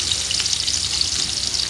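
Onions frying in a pan for a chicken biryani masala give a steady, close, even sizzle with no pauses and no voices.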